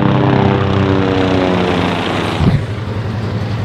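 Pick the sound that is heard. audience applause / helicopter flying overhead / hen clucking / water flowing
helicopter flying overhead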